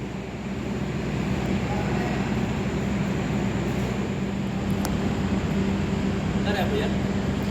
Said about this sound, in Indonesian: Segera melintas langsung kereta api Parsel